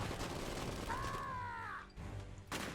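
Battle gunfire in the real-time strategy game Iron Harvest: a dense, steady wash of shots and rumble that runs through the whole stretch, with a brief whistling tone rising above it and a short dip in the middle.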